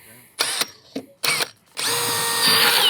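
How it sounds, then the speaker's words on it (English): A power drill whirs in two short bursts, then runs continuously and loud, biting steadily through a deck cable rail post. "let me drill this one out"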